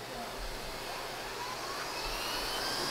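A Lindhaus HF6 vacuum cleaner runs on soft carpet with a steady, moderately loud motor whine and airflow hiss, rising slightly toward the end.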